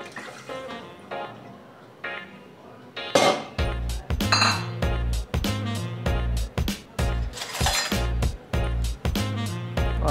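A metal spoon clinks and scrapes against a pot as sugar syrup of sugar and water is stirred, with rapid repeated knocks and clatter at a fairly loud, close level after a few quiet seconds.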